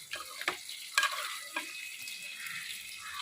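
Chicken biryani masala sautéing in a pan as it is stirred, with a steady close sizzle and a few sharp scraping strokes of the spoon, no talk.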